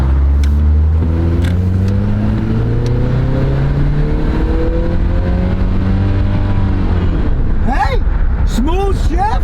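A medium-sized pickup truck with a 4-cylinder engine accelerates through a shift, its engine note climbing steadily and droning close by. Faint voices come through near the end.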